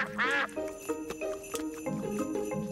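A cartoon duck by a frozen, icy pond in a Peppa Pig winter episode gives a short, bright burst of quacks at the start, followed by soft tinkling tones and light background sounds.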